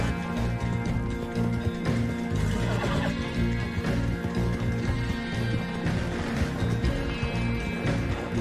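A horse in the video game Red Dead Online neighs and whinnies repeatedly over a busy game soundscape with hoof clip-clops and steady background music.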